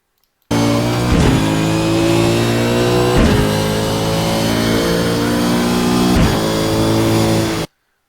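A race car accelerates hard on the straight at Zolder, its close, loud engine note climbing steadily with three sharp gear shifts spaced a couple of seconds apart.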